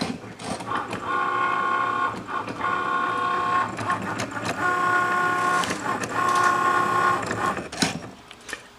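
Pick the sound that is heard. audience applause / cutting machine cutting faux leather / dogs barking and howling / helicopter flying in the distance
cutting machine cutting faux leather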